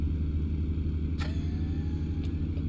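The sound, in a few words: truck engine idling after cold start, American Truck Simulator video game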